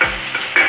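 Soybean chilli with green chillies sizzles and is stirred in a hot pan, a short close burst of frying crackle with a scrape of the spoon and no voices.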